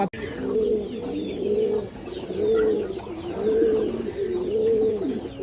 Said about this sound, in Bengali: বড় সাইজের একজোড়া ইন্ডিয়ান হাইফ্লাই কালদম কবুতর আছে